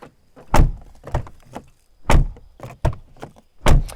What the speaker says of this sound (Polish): Kwadratowe drzwi, które mają bardzo ładny dźwięk, zobaczcie.